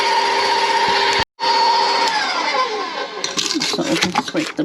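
An electric stand mixer whirs steadily at medium speed, beating lemon pound cake batter, loud and close; the motor cuts out for an instant, then resumes with a rattling, shifting tone near the end.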